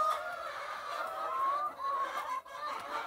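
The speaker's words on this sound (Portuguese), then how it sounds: "Aqui a gente tem um lote de 300 Isabral HB vermelha." A flock of 300 red Isa Brown laying hens clucks and murmurs steadily in a farm henhouse, a soft, busy chorus with no talk.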